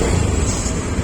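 A Honda Beat Deluxe scooter engine revved under throttle, giving a steady, close, rough mechanical drone that holds an even level with no pauses.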